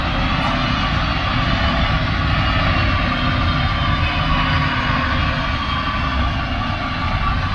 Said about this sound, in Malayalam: നമ്മുടെ എഞ്ചിൻ്റെ സൗണ്ട് വയ്ക്കാൻ